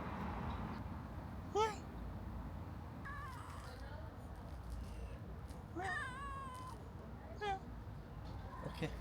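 A house cat meows several times, three distinct rising-and-falling cries spaced through the stretch, each standing out moderately above a constant low background rumble.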